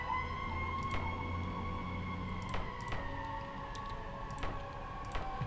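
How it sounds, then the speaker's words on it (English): Distant emergency sirens wail steadily outside, faint and sustained, with a few sharp clicks and knocks nearby. "if you guys can hear the sirens outside,"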